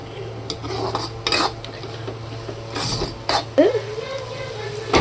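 Food sautés in oil in a pot as a spoon scrapes and clanks against the metal, intermittent knocks and scraping strokes over a low steady hum, close by.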